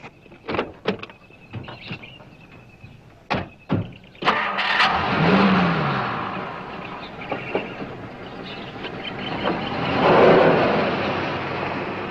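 A patrol car's engine cranks and catches after a few door and handling clicks, then runs steadily and pulls away, engine noise rising and swelling near the end, with no talk.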